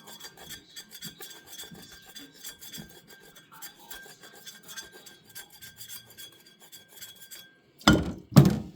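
A knife blade scrapes and rasps against the label of an unopened glass wine bottle in quiet, repeated soft strokes, ending with two louder bursts of rubbing.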